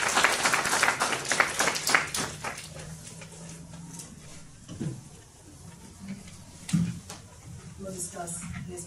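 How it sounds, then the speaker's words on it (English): A round of clapping at a St. Helena Parish school board meeting, brisk and fairly close for the first couple of seconds, then fading as a voice takes over and speaks over the quieter room. "please give him a round of applause"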